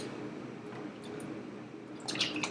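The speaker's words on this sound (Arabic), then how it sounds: "وأحط تقريبا لتر حليب" Liquid pours into a cooking pot while milk is added for a Kuwaiti elba dessert, with soft trickling and drips throughout that swell into a brief, louder splashing pour near the end.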